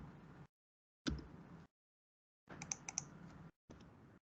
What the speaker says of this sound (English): I am typing different kind of phone numbers which are not similar